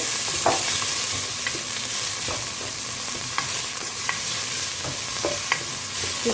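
Chopped onion sizzles steadily in a spoonful of hot olive oil for Senegalese tiep, with a spoon scraping and clicking against the pan every second or so; close, with no talking.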